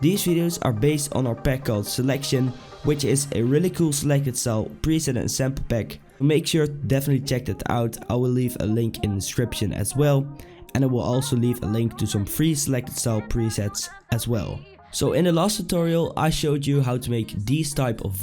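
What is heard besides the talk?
None of the usual background noises is heard.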